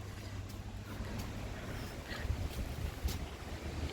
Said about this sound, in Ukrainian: Сильний вітер піднявся